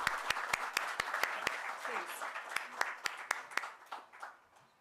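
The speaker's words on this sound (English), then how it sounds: "Let's put a big hand of applause together while they come to the stage." Scattered applause at a rural policy colloquy in New Delhi, fairly faint, with a few sharp distinct claps standing out over a softer crowd patter that thins toward the end.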